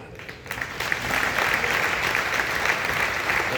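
Audience clapping at a Hindi comedy poetry recital, a dense and sustained round of applause that swells after a brief quiet start and holds steady at a fairly loud level.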